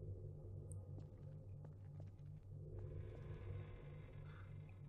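A steady low pulsing hum fills the Tenth Doctor's TARDIS interior in Garry's Mod, continuous and fairly loud, with faint higher hiss and light ticks drifting over it.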